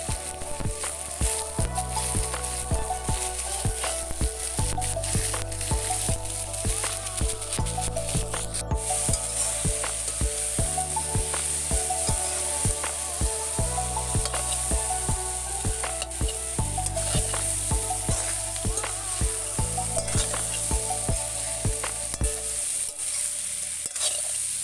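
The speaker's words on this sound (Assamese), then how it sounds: "এতিয়া তেল গৰম হৈ পিয়াজ জলকীয়া দি দিলো।" Onion and chilli hit hot oil for a local chicken curry cooked over a fire, giving a continuous close sizzle and crackle, with faint background music underneath and no speech.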